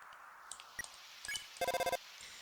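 A phone call rings in the video game Undertale as a rapid burst of electronic ringing pulses after a few soft game blips, quiet and clean with no talk over it.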